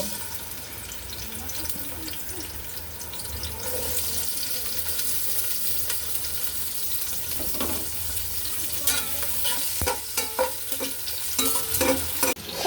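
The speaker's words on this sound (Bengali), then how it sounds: "এদিকে আমার পেঁয়াজগুলো কিন্তু ভাজা হয়ে যাচ্ছে" Steady frying sizzle of onions in oil in a pot, with stirring clatter and scraping, growing busier and louder toward the end, while cooking chicken curry.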